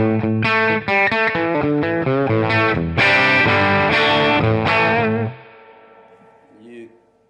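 A distorted vintage electric guitar through a tube amp plays a quick run of overdriven chords and notes, then a final chord rings out and slowly fades.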